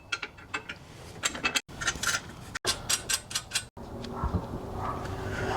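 Bolts being tightened into the seat brackets of a 1990 Jeep Wrangler YJ, heard as close, rapid ratcheting clicks in short bursts separated by brief pauses, followed by softer metallic handling noise.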